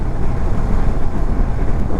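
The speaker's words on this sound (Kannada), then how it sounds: "ಗಾಳಿ ಇದೆ, ತುಂಬ ವಿಂಡ್ ಇದೆ." Strong wind buffets the microphone of a Honda CB300 motorcycle ridden from Hyderabad to Bengaluru, a steady loud low-pitched roar that continues throughout, with no voices.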